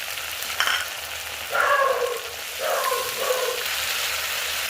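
Curry leaves, dried fenugreek and ginger-chilli paste hit hot oil in a vegetarian rajma tarka, giving a steady close sizzle with bursts of louder spluttering as each ingredient drops in.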